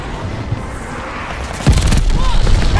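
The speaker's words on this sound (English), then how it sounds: "I got hit by a glide bomb." A glide bomb explodes in a first-person shooter video game, a sudden heavy boom that breaks through the gunfire partway in and leaves a rumbling, crackling tail under the ongoing game noise.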